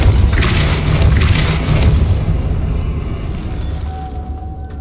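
A Depulso force spell is cast in the Hogwarts Legacy game, producing a loud, deep booming burst that rumbles and slowly fades over a few seconds.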